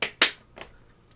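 Sharp, close hand claps in a quick pair, crisp and bright with short decays, followed by two fainter softer taps, no voices over them.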